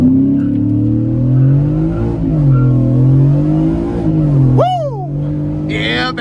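A supercharged 2025 Ford F-150 XL launched hard from a stop, its engine roaring loud and close with a steady climbing drone, ending in a sharp squeal and a brief burst of noise.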